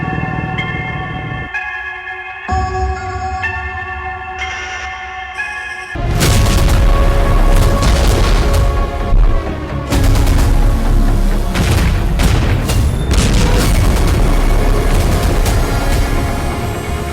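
War footage of blasts attributed to Israel's Iron Beam: after a stretch of tonal music, loud booming explosions and crackling bursts of gunfire-like noise fill the rest, dense and continuous.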